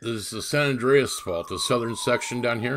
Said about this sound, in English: Sorry for the sirens.